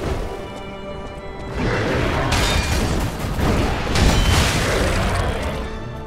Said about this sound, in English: that artillery fire is really pissing me off